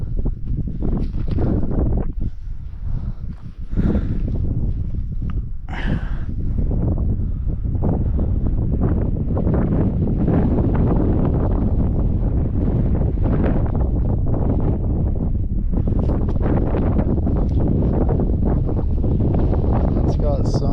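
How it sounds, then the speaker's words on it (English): Strong gusting wind buffets the microphone in Utah's West Desert, a loud continuous roar with rustling surges throughout, and a voice is briefly heard over it. "but then it gets really windy."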